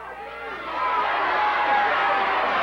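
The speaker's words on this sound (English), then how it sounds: "the crowd is verifying what Brian has said" A wrestling crowd at a 1994 USWA tag-team match roars in a dense, steady wash of noise that swells louder partway through, with no clear voices standing out.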